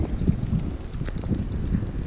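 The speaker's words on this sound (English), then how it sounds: "Sorry, it's windy and cold." Steady gusty wind buffets the microphone by the water on a cold day, a constant rough rumble with no clear pauses or talk.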